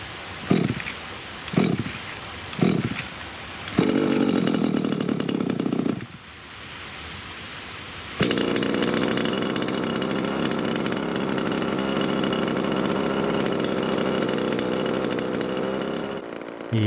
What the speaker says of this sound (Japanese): 正しいエンジンの始動方法、このやり方でのエンジン始動しかできませんので、